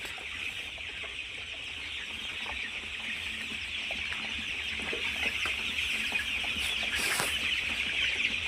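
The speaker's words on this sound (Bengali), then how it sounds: "আজকে 14 দিন বয়স মুরগির।" A flock of 14-day-old chickens kept in a dry, cool house, a continuous dense chorus of high peeping chirps with occasional clucks, steady and moderately loud throughout.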